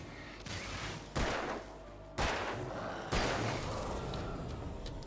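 A flare gun fires in the Alan Wake video game, with three sharp, loud bursts about a second apart, each trailing into a hissing rush that runs between them, with no voices.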